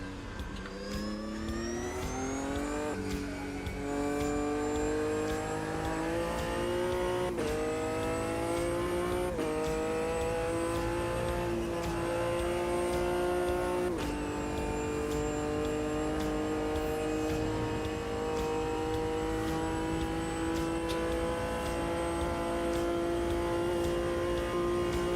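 A classic GT race car in Automobilista 2 held at steady high revs while warming its tyres, a loud continuous engine drone with a few brief shifts and dips in pitch, alone.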